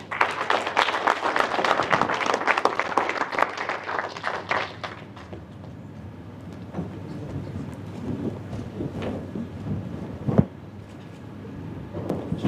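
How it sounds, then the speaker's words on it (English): An audience at a forum applauds the steering council, with dense clapping for about five seconds that then thins to scattered claps and room noise. "A round of applause for them"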